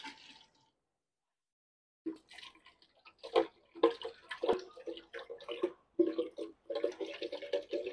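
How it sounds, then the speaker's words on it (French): Water poured out for rinsing, about one litre, while making a homemade natural insect repellent: a brief splash, a pause, then several seconds of irregular splashing and trickling close by. "je vais rincer avec les 1 litre d'eau que j'avais demandé au départ"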